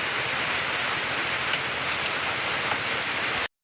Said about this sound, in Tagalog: nga po at bumuhos na naman po ang ulan.